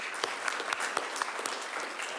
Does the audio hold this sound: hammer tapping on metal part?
no